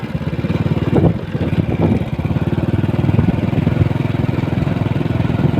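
A motorcycle engine runs loud and close with a steady, even mid-pitched drone that swells slightly at about one second and holds near level as the bike moves along a street.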